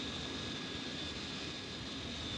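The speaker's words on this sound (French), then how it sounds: "Vous verrez l'avion même de Guillaumet, piloté par Guillaumet" Guillaumet's own airplane, flown by him across the Andes, drones with a steady, unbroken engine roar under a grainy archival film hiss, with no voices.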